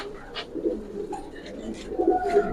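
Khaki pigeons coo inside a loft, several soft, low, rolling calls overlapping close by over a quiet background hum.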